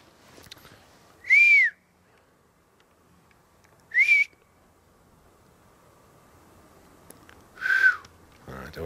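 Three separate whistles from a person outdoors, each short and rising then falling, spaced a few seconds apart and fairly loud over faint background rustle, with a low thump at the end.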